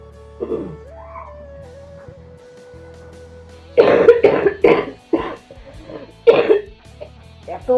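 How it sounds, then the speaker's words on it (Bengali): A person coughs in short bursts, a few isolated coughs early and then a close, loud cluster of harsh coughs with throat clearing, while lingering after a fever. "এখন জ্বরটা নেই কিন্তু কাশিটা আছে"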